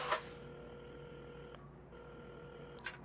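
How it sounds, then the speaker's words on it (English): A telephone being dialed in the video game Assemble With Care gives a few faint tonal beeps with a steady hum between them and a soft click at each end, quiet and close. "at the counter, Carmen had started dialing the phone"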